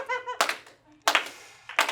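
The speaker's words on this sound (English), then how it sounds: "It's a slow clap." An audience at a charity fundraiser bash giving a slow clap: three widely spaced, sharp claps of many hands at once, with a brief voice at the start.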